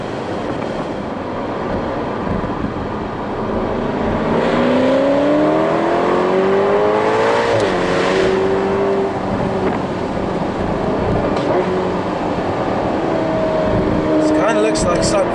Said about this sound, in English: I'm driving a Ferrari chasing down an Aston Martin.